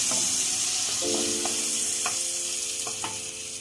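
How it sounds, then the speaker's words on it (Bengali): Turmeric and red chili powder fry in a pan over low gas, with a steady close sizzle broken by several distinct spoon-scraping stir strokes; no one speaks. "দিয়ে আমি একটু নেড়ে নিই যাতে না নিচে লেগে যায়।"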